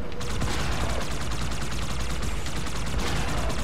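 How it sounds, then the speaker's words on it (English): Continuous rapid gunfire in the Halo video game during a multiplayer fight; loud, dense bursts of automatic shots rattling without pause throughout, no talking heard. "How is he still shooting me when he's flipping?"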